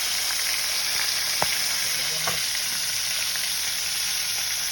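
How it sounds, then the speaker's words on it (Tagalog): Frog meat fries in a pan with a constant bright sizzle and crackle, the hiss loud and close, broken by a few faint clinks of stirring. "Tara, samahan nyo na lang ako magluto ng pritong palaka."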